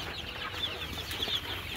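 Desi hens cluck and murmur across a crowded poultry farm holding hundreds of birds, a dense, continuous flock noise at moderate distance with no talk.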